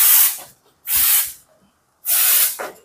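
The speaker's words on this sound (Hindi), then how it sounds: "इधर है कोई चिपकली अब इस पर हम स्प्रे करेंगे" Liquid insect spray is sprayed on a lizard in three loud, close, hissing bursts of about half a second each, separated by brief silences, with no talk.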